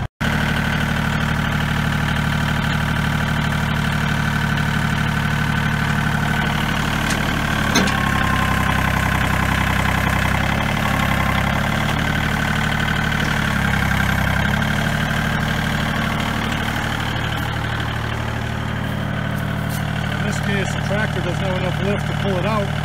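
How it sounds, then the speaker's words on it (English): A tractor-style engine runs steadily as its hydraulics lift a bucket for pulling out brush and saplings, a loud, close, continuous rumble with slight load changes and faint clatter. "So now I'll go back to the hydraulics and lift this thing up."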